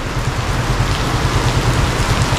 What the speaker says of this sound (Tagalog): Pakas talaga ng ulan oh.